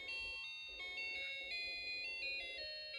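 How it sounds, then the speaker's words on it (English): A Snap Circuits SC-750 electronic kit playing a Christmas song, a thin, bright beeping tune of stepped electronic tones, close and steady, with a low buzzy hum beneath. "And you hear some beautiful Christmas songs."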